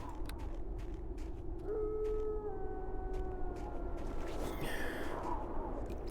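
A dog howls in Neverwinter Nights: Shadows of Undrentide, one long wavering rising howl that holds for a few seconds over a dense game ambience before giving way to a noisy burst.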